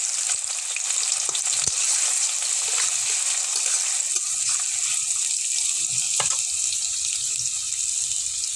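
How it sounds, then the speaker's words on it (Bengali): Chopped onion fries in hot oil in a wok, giving a steady, loud sizzle that fills the whole stretch, with occasional scrapes and clicks of stirring and no talk. "এখন কড়াইতে দিয়ে দিলাম তেল, দিয়ে দিব অল্প পেঁয়াজ"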